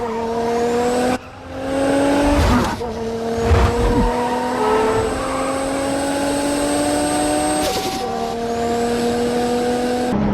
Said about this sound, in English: achieve that unique sound of all 550 plus horses that his Supra had under the hood at that time